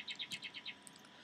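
Birds chirping in the Minecraft video game: a quick run of about six bright, evenly spaced high tweets, faint and alone, then a few softer trailing chirps.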